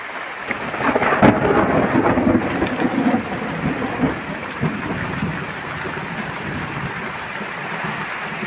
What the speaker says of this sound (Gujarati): તમે એન્ડ સુધી બને રહેજો કેટલો વરસાદ પડે છે.